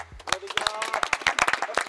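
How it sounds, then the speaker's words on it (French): A group of young track cyclists at the Vélodrome de Bretagne breaks into brief applause after a training session, quick overlapping claps mixed with voices. "bravo tout le monde, on peut s'applaudir."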